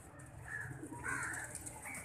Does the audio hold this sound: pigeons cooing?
yes